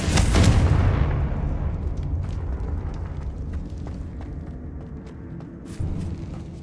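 The Confringo explosive spell cast in Hogwarts Legacy: one loud, close blast at the start that decays into a long rumbling tail, with faint debris clatter and a softer thump near the end.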